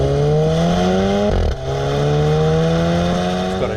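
A 2018 Porsche Macan in Sport mode rumbles with a loud, sustained exhaust drone whose pitch climbs steadily, broken by a brief dip as a gear shifts before the note rises again.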